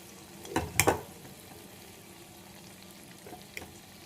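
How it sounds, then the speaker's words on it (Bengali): Paneer pieces frying in hot oil, a soft low sizzle with a few sharp crackling pops early on, then quieter bubbling. "এইভাবে সব পনিরগুলো আমি ভেজে নেব"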